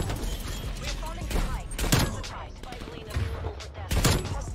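Barrett sniper rifle gunfire in a Call of Duty match, several sharp shots and clacks scattered irregularly through busy game noise, with voices talking underneath.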